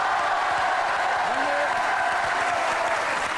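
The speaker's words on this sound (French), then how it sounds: "Je vous demande d'applaudir très fort." A studio audience at a French television talk show applauds loudly, a dense, continuous clapping that fills the whole stretch without pause.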